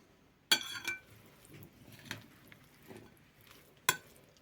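A spoon stirs beet and herring salad in a bowl, giving a few sharp clinks against the dish and soft wet mixing sounds between them, quiet and close, no talking.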